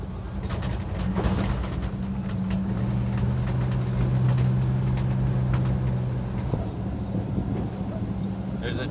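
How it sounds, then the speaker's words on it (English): A car freshly swapped from a straight six to a Chevy 350 V8 cruises on its first test drive, a steady low engine drone filling the cabin with broadband road and wind rumble throughout. "The official first test drive with the V8."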